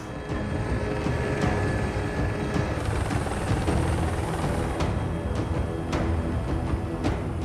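Steady, loud rotor and engine roar heard from inside a helicopter fills the whole stretch, a continuous droning whir with no voices.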